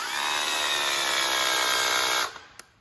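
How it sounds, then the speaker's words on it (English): Hammer drill running on its hammer setting, a steady loud whine with rapid percussive chatter for over two seconds, then stopping abruptly, followed by a couple of short clicks. "You could use this on the hammer drill setting. The percussion comes when we push against the back of the drill."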